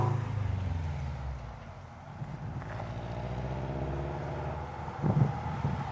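Rumbling exhaust of a Subaru STI being made louder, a steady low engine drone held close throughout, with a brief louder swell near the end.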